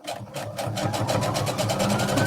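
A sewing machine understitches the pocket bag of a knit skater dress, a close, steady rapid whirring stitch rhythm lasting a couple of seconds.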